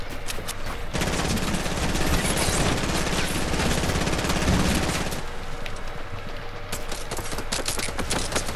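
Rapid sustained minigun fire in a multiplayer shooter game, a dense continuous burst lasting several seconds, loud and close, with scattered gunshots trailing off afterward.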